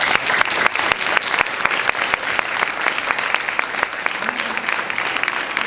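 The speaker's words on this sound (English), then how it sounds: "So can we just clap for that?" An audience applauds dancers with steady, lively clapping that carries on throughout at an even level, with sharp individual claps standing out from the crowd.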